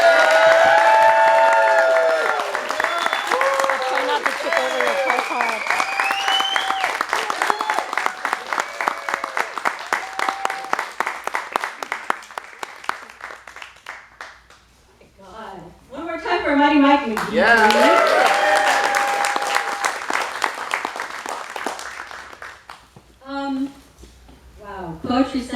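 Audience applause and cheering at the San José Poetry Festival, a long, loud wash of clapping that fades, then surges again with whoops, with a speaker's voice heard over parts of it.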